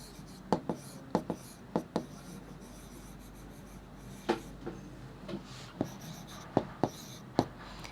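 Hand writing during a maths lesson: sharp pen-on-paper strokes and taps come in short irregular bursts, close and fairly crisp over low background hum.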